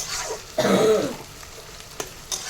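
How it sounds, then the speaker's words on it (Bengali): Onions frying in a pan while cooking chicken, a close hissing sizzle with a stirring scrape swelling briefly in the middle before settling back to a steady low fry, with a small clack near the end. "এদিকে পেঁয়াজ ভাজা হচ্ছে অলরেডি"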